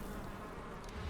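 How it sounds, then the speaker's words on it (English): A swarm of insect wings from the video game Darkest Dungeon, a faint continuous buzzing whine that stays even for a brief moment, with no voices. "The maddening whine of multitudinous wings abates"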